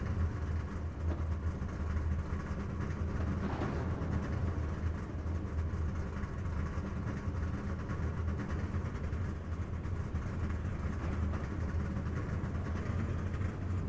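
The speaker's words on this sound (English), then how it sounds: "Sounds like they're firing up the engines here today." Race truck engines firing up at Richmond for a Truck Series event, a distant steady low rumble of idling engines blending into a continuous drone.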